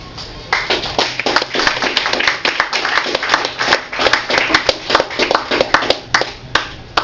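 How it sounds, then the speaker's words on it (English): Audience applause, steady and fairly loud, with close individual claps standing out sharply over a dense wash of hands, continuing without pause. "so you should applaud louder"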